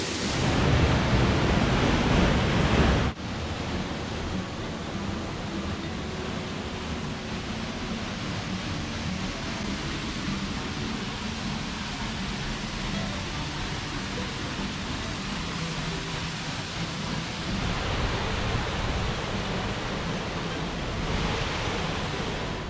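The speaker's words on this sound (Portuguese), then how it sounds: "Vamos ali ficar o mais próximo da cachoeira possível." Waterfall inside Gibson's Cave near Barnard Castle, a steady, loud broadband rush of falling water that fills the whole stretch, slightly louder at the start and briefly near the end.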